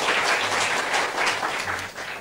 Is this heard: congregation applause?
yes